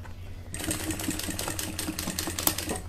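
Sewing machine running fast while stitching bias binding around a box-style bag, a close, continuous whirring with rapid needle ticks that starts abruptly after a brief quiet moment.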